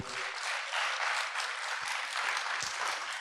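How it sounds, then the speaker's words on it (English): Audience at a women's conference clapping in a dense, even wash of applause that holds steady throughout, with no talk over it. "give yourself a very big round of applause"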